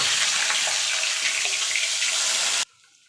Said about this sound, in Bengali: দেখুন বন্ধুরা, মশলাটা ঢেলে দিয়েছি। এবার মশলাটাকে কষিয়ে নেবো